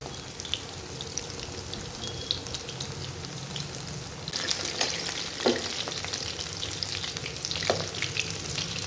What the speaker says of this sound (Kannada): ಇದು ಡೀಪ್ ಫ್ರೈ ಮಾಡೋಣ ಈಗ.